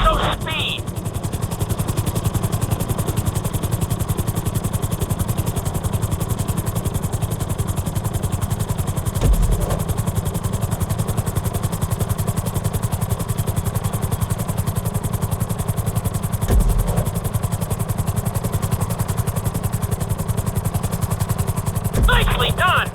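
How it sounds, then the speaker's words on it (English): A helicopter in GTA 5 during a flight school course, a continuous pulsing rotor and engine drone that holds steady and close throughout, with a voice speaking over it at times. "we'll see how well you handle the chopper"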